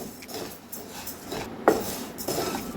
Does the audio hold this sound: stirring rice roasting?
yes